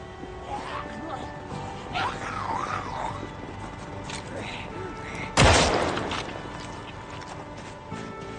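A single sharp gunshot rings out in Project Zomboid, loud and close, cutting through quieter game ambience and faint talk-like sounds before and after.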